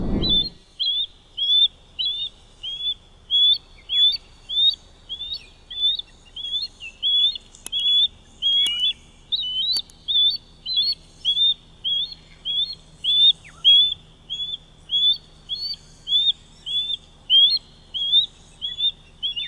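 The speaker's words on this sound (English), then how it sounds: "Osprey bird." Repeated bird calls from an osprey: short, bright chirping whistles in a steady, regular series of about thirty notes, moderately loud and fairly close, heard alone without talking.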